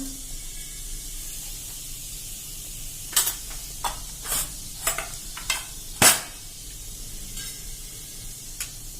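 Mustard seeds, cumin, ajwain and a pinch of asafoetida crackle and sizzle in hot oil, with a soft steady fry under a run of sharp pops that bunch together midway, loudest with one big crack near the end.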